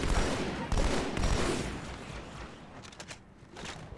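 Gunfire in Halo 2: Anniversary, with dense automatic bursts crackling loudly at first, then thinning into scattered, sharper shots farther off as the firefight fades.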